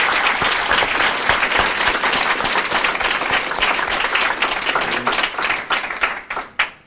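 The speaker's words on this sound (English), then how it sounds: "I think the panel deserves a round of applause." Sustained applause from a symposium audience on criminalization and the carceral state, dense and steady clapping filling the room for several seconds before tapering off into a few final claps.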